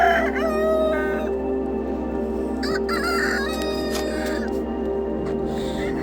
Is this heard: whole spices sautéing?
no